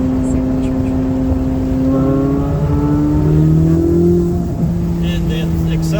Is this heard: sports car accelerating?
yes